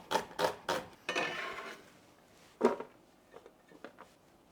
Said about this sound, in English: I'm gonna have one more onion to cut